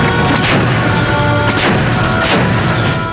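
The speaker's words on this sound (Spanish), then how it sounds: "Fueron 10 disparos de cañón." Naval cannon firing from the bow of a corvette at sea, a loud, dense stretch of booming blasts with sharper reports standing out, heavy and continuous throughout.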